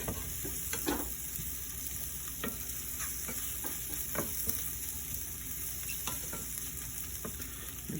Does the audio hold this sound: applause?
no